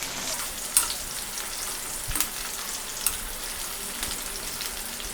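A potato sizzles in hot oil in a pan for a cauliflower and mango curry. The crackle is steady and close, broken by a few sharp pops and a spoon scraping the pan, with no voice.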